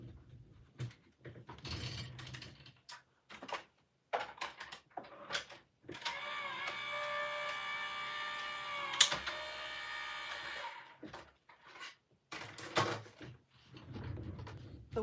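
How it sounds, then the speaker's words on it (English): An electronic craft cutting machine slices through paper, its motor whirring in a sustained stretch with intermittent clicks, knocks and shuffling handling noises before and after, close and fairly quiet with no talking. "I'm going to run this through my cutting machine"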